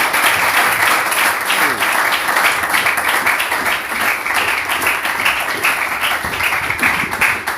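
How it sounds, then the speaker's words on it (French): Congregation at a church service applauding, a steady, dense wash of many hands clapping throughout, loud and sustained, with faint voices underneath. "Applaudissons pour le message que le Seigneur fait."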